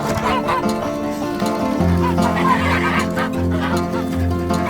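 Geese honk repeatedly in a loud, harmonic chorus nearby on a cold homestead in Nova Scotia, Canada, with other farm animal calls blending in.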